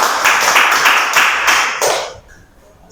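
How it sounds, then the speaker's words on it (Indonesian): A classroom group claps together after student presentations, a loud, close burst of many hands in a quick pulsing rhythm that stops abruptly after about two seconds, leaving quiet room sound. "yuk kita tepuk tangan untuk kita semua"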